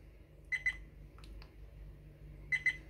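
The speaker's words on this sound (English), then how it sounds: "That beeping is a warning, it's not recording." A VIOFO A129 Pro dash camera gives a warning that it is not recording: two pairs of short, sharp double beeps about two seconds apart, with a couple of fainter clicks between, in a quiet room.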